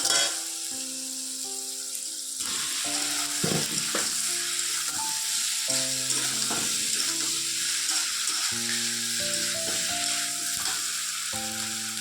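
Potatoes frying in a pan with a steady, loud sizzle throughout, a sharp burst of hissing as they hit the hot oil, with background music playing underneath.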